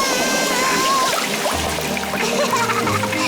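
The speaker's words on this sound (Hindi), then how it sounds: "पेपा ने पाइप पकड़ी और मम्मी ने पानी शुरू कर दिया।" Water from a garden hose splashes into a paddling pool in a Peppa Pig cartoon, heard as a steady, broad hissing spray mixed with cartoon sound and background music.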